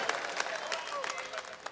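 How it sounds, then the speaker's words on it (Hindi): Audience applause at a mushaira poetry gathering, a crowd clapping steadily and fairly close for a brief moment. "अगर आप हजरात ताली बजा के थोड़ा सा बेदार हो जाए तो ये मुशायरा बन जाएगा"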